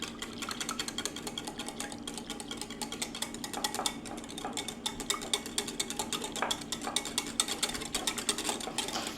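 Chocolate tres leches cake mixture being whisked in a bowl, a steady run of quick, dense clinking and scraping strokes close up that keeps up without a break.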